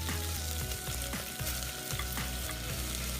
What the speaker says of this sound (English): Once the oil is hot, add 2 medium-sized onions sliced